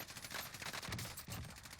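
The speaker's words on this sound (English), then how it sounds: "He gets the kill, but he misses a lot of bullets trying to track the target." Rapid automatic gunfire in the Warzone video game, a fast unbroken stream of shots from a player tracking a target, fairly faint and steady with no talk.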